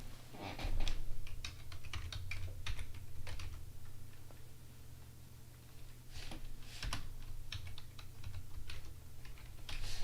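Steady typing on a computer keyboard, soft and close, with irregular clusters of key clicks and short pauses over a low background hum.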